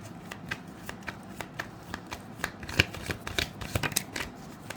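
Tarot cards are shuffled by hand in quick, crisp riffles and slaps. The shuffling is close and fairly quiet, and it grows busier toward the end with no one speaking.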